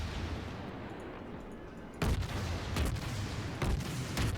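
Naval gun salvos from the cruiser Krasny Krym in the game World of Warships, heard as a faint, muffled boom followed by a few softer distant thumps over a steady background rumble.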